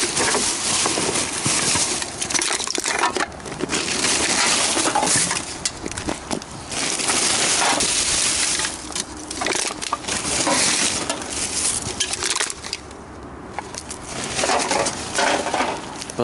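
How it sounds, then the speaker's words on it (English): Metal cans clatter, rattle and crunch in a busy, continuous jumble in a dumpster, with sharp crushing bursts and scraping, fairly close and loud. "That's the sound of cans."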